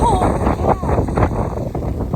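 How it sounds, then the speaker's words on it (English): Strong wind buffets the microphone with a loud, steady low roar and rumble, gusting slightly throughout. "Oh my goodness, it's so windy."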